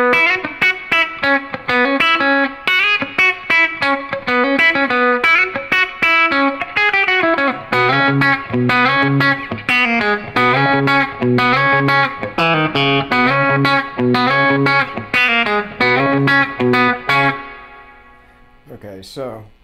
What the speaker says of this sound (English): I basically arranged the banjo part for guitar, sort of a chicken picking version